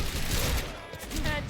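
Gunfire from a Quantum Break video game match, a dense burst of shots heard faintly under game sound with a voice speaking over it.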